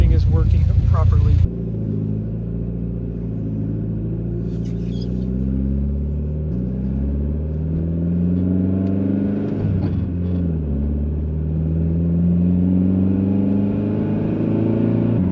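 A Mitsubishi Lancer Evolution X engine hums steadily from inside the cabin, rising and falling in pitch as the car accelerates and shifts while driving.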